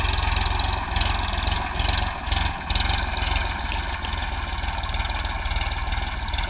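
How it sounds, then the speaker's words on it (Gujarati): A low tractor engine idles steadily and close, a continuous rumbling drone with a regular pulsing beat and no speech. "ટ્રેક્ટર આવી ગયો"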